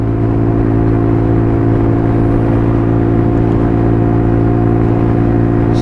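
Brand-new AJS Desert Scrambler 71 motorcycle held at a steady cruising speed, its engine humming loud and close in a continuous even drone with wind rush.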